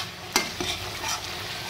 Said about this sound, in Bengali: চিংড়ি মাছটা দিয়ে আমি খুব ভালো করে মশলার মধ্যে কষিয়ে নিয়েছি